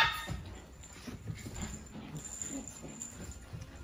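Small doodle puppies tussle over a shared toy, giving soft whimpers, faint yips and low rustling scuffles that run steadily throughout, fairly close and moderately quiet.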